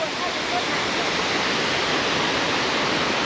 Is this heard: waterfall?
yes